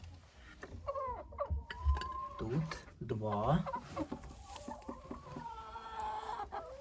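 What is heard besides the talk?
chicken clucking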